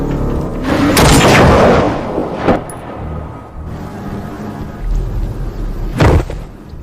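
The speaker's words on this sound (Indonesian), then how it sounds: "masih dipegang oleh Chloe, hingga berhasil menembaknya sampai si gadis itu pun harus tewas saat itu juga" Movie gunfire rings out in a loud, booming burst, followed by two sharp, heavy shots spaced several seconds apart, with nobody speaking.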